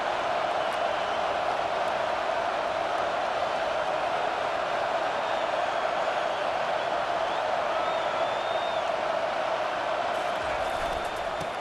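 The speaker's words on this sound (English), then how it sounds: "Now the crowd responding in the red zone," Stadium crowd in the College Football 25 video game roaring steadily during a red zone drive, a dense continuous wash of cheering that holds level throughout with faint whistles and calls rising above it.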